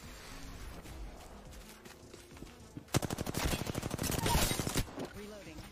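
Rapid automatic gunfire from a video game bursts out suddenly partway through, a dense rattling volley that grows louder before cutting off, following a quieter stretch of game ambience.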